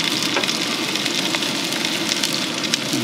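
Food sizzles and spits steadily on a hot cast iron griddle at a campground, a close, continuous hiss with no talk.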